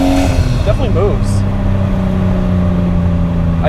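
A Nissan R33 Skyline's exhaust as the car accelerates, a loud, close, continuous engine roar whose pitch climbs and dips briefly before holding steady.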